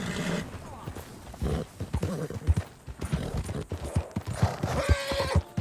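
Hooves clip-clop in a steady rhythm while a horse whinnies in the video game Red Dead Redemption 2, with someone talking over the sounds.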